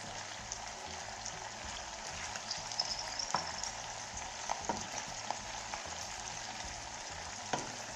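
Garlic shrimp fry in a pan with a quiet, steady sizzle, crackling faintly throughout with occasional small pops and no talking.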